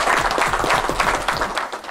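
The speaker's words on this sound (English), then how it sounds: "the B-Team also deserve a round of applause also" A room of people at a sweeping company gathering breaks into loud, sustained applause, dense overlapping claps close by with no talking over them.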